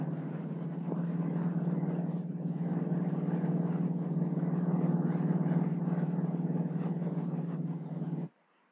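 A light airplane's engine drones steadily in flight at about 95 miles per hour, a loud even hum that holds without a break before cutting off sharply near the end.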